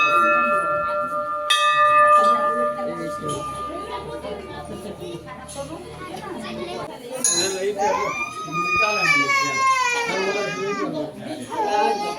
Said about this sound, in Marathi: घंटी घंटी घंटी घंटी